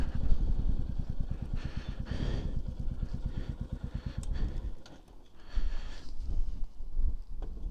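A Royal Enfield Classic 350 motorcycle pulls up to park at a quiet hilltop summit, its single-cylinder engine thumping in a steady idle rhythm before cutting off, then wind and faint handling noises.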